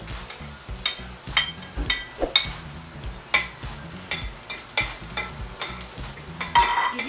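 Garlic and onion sautéing in a pan, with a spatula scraping and stirring in repeated sharp strokes over a soft sizzle, close and fairly loud throughout.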